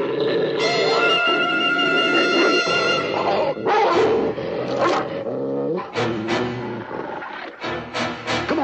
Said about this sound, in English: Dogs, a lot of dogs.